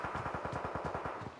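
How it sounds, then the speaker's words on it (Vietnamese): Rapid automatic gunfire in the PUBG Mobile battle royale game, a fast even string of about a dozen shots at moderate distance, fairly faint and with no talking over it. "Ok, tiếng súng ở bên trái luôn, trước mặt luôn."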